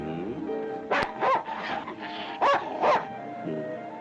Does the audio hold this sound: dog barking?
yes